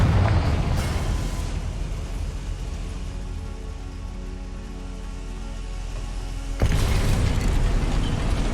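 The Confringo explosive spell goes off in Hogwarts Legacy, a rumbling blast washing through a sustained crackling roar, with a second sharp burst hitting loudly near the end.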